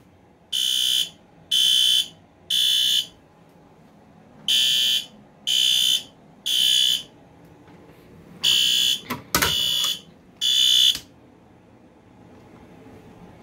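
A System Sensor L-Series fire alarm horn strobe sounds in temporal 3 code: three loud, piercing buzzing blasts, a pause, three more, then a final three, with a brief thump and rustle near the end.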